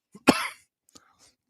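A single sharp cough, close and fairly loud, followed by a faint throat sound and quiet.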